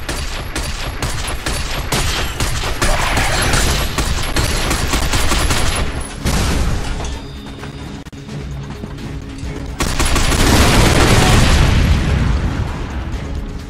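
Dense automatic gunfire rattles loud and continuous in the shooter video game Binary Domain, broken by heavy booming explosions, with a brief lull before another big blast roars up and trails off.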